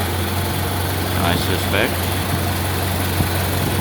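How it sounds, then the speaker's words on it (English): A 1931 Ford Model A engine idling with a steady low hum and a constant even drone, heard close, while someone speaks briefly over it. "Anyway, the engine's running really nice"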